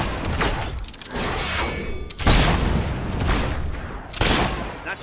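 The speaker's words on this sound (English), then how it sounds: "he's shooting." Sustained gunfire in Fable 3, a heavy barrage of shots and booming impacts with sharp louder bursts standing out, close and continuous throughout.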